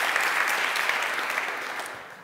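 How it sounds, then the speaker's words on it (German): Conference audience at re:publica 2024 in Berlin gives a dense, steady round of applause for podcast panelists, loud and continuous, easing off slightly at the end. "Applaus."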